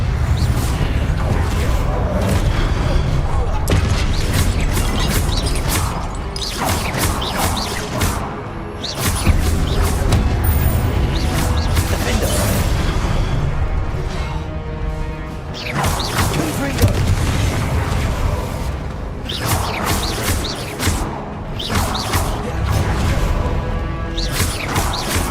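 Repeated Confringo fire-spell blasts in the video game Hogwarts Legacy, a series of loud booming explosions and crashes in irregular bursts over a continuous low rumble of game sound.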